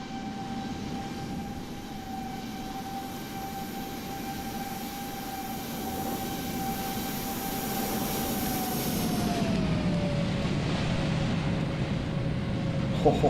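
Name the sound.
airliner landing on short final in a flight simulator game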